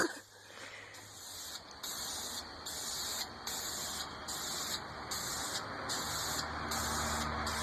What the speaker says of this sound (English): I'm going to zoom in on the spraying.